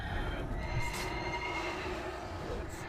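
A horse whinnies as a video game mount, the Baron's horse in a Deathcharger's Reins mount run, its neigh rising over a steady dense background of game ambience for about three seconds.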